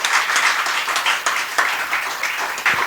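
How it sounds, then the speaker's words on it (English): An audience at a literature and art festival applauds steadily, a dense wash of many hands clapping at close range throughout. "I'd like you to give her a large round of applause for that"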